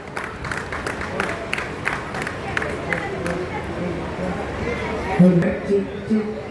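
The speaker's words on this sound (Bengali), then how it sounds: "সবাইকে অনুরোধ করবো একটু জোরে হাততালি দিতে" An audience at a Durga Puja inauguration in New Town claps, scattered hand claps and crowd murmur running under a speaker's voice on a microphone, moderate and continuous.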